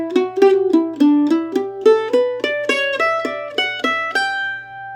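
A fretted string instrument, likely acoustic guitar, plays the second phrase of the bluegrass fiddle tune Blackberry Blossom: a quick run of plucked melody notes with pull-off triplets and a brief hum underneath, ending on a held note, close and alone.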